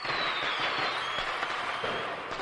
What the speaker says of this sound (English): Fireworks. Yay. Applause, yay.